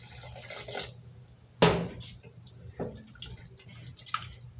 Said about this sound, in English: I'm gonna add some water.